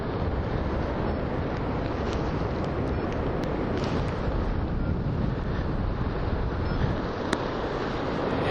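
Wind rushes past steadily while paragliding low near the landing, a dense, constant roar of buffeting air against the microphone with no break and no voices.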